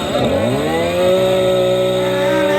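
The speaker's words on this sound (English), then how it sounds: "This chainsaw, ladies and gentlemen." A chainsaw engine runs loud and close during a stand-up comedy juggling act, revving up then holding a steady high buzzing drone throughout.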